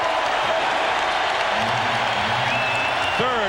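A dense, steady roar of cheering and applause fills a basketball arena after a three-pointer in a 1996 NBA playoff game, Rockets at Sonics, while a commentator talks over it.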